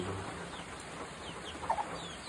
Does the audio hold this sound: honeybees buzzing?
no